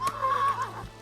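A horse neighs in the online game Mortal Online 2, a single short, shrill whinny with a wavering pitch, close and clear, ending with a soft hoof thud.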